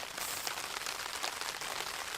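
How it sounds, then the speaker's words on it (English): Heavy rain drums steadily on a tent during a windy overnight camp under thick cloud, a dense, even hiss of drops that stays close and continuous throughout. "listen to the rain, because it's picking up pretty good"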